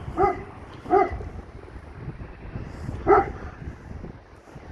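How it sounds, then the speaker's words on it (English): A big dog gives three deep barks at a distance, two close together and one a couple of seconds later, over faint background noise on a seaside promenade. "a big dog barking"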